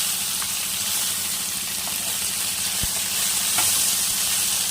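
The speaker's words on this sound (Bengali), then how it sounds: "খুব সুন্দর লাল লাল করে প্রথমে মাছটাকে ভেজে নেব" Bata fish frying in oil in a pan as a loud, continuous close sizzle and hiss, with an occasional light knock of the utensil against the pan.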